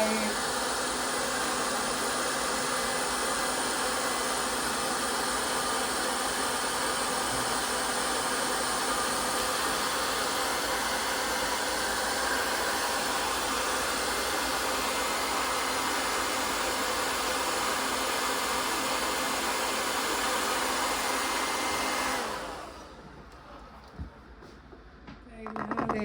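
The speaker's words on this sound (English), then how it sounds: "Blow dry it." A hair dryer blow-drying hair while styling a low swoop ponytail runs loud and steady for over twenty seconds, then switches off near the end.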